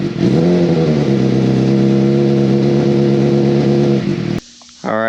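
A homemade crosskart with a 600cc engine revs hard and loud up close, a steady buzzing drone that holds then cuts off abruptly near the end, leaving brief quiet.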